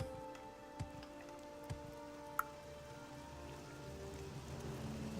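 Soft, steady rain falls in the video game Morrowind, a faint hiss of patter with a few sharp ticking drops standing out, and no voices over it.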